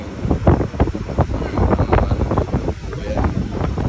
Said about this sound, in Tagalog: talaga mahangin